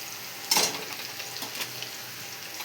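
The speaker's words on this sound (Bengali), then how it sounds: "পেঁয়াজটা একটু লাল লাল করে ভেজে নেব।" Onions fry in hot oil in a pan, giving a soft steady sizzle with a few sharper crackles and stirring clatters, close by and without speech.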